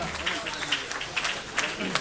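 Audience at the Arewa House 50th anniversary event giving a round of applause, with scattered claps rising in small bursts, fairly faint under someone speaking.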